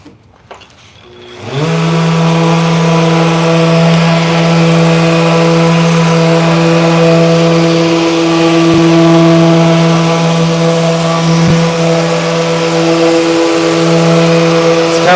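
A power sander with 1200-grit paper polishes a sealed surface, spinning up after a brief quiet start into a loud, steady motor whine that holds for the rest of the stretch.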